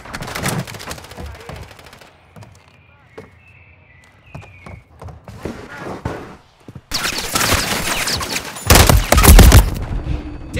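Gunfire in the shooter Call of Duty: Modern Warfare III: scattered shots and short bursts, a quieter lull with faint metallic tones, then loud sustained automatic fire and heavy blasts close by.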